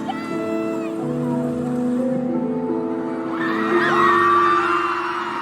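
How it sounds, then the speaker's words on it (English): A concert crowd at a show in Oakland screams and whoops continuously, loud and sustained, with shrill high voices swelling toward the end. "And the screaming starts from here."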